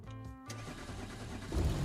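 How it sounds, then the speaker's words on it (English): A car engine in the BeamNG driving game cuts out: a brief mechanical whine and hum stops abruptly, followed by a low, muffled rumble that swells slightly at the end. "Oh, engine died."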